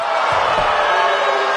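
Arena crowd in the wrestling video game WWE 2K19, a loud continuous roar of cheering and whooping that holds steady throughout, with a couple of dull low thuds near the start.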